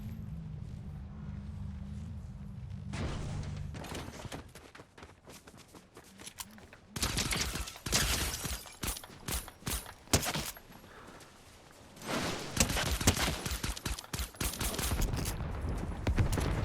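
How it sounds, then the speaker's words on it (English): Rapid bursts of gunfire and fusillades from a Fortnite match, loud and dense, arriving in two heavy clusters after a quieter stretch with low rumble and faint footsteps. "I was horribly shooting."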